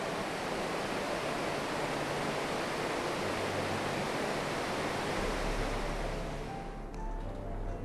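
Montmorency Falls pours about 85,000 liters of water a second, a steady, loud broadband roar heard from a bridge over the falls, constant throughout with no speech.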